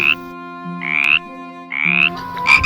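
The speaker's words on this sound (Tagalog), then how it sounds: "Pumunta siya sa tabi ng tubig at nakita ang isang palaka na tumatalon-talon" A frog sound effect in a children's story gives three loud, raspy croaks in a steady rhythm over soft sustained background music.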